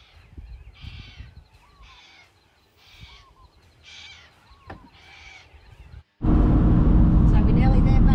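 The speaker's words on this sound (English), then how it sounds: "Birds are waking up." Crows cawing at sunrise outside a van window, a series of loud rhythmic caws repeating about once a second, then a sudden roar of engine and road noise takes over.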